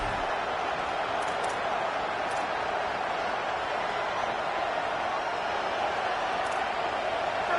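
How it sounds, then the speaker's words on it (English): A stadium crowd at a Texas A&M versus Tennessee college football game holds a steady, unbroken roar of cheering and noise, dense and constant from start to finish. "This crowd ready to make its presence known"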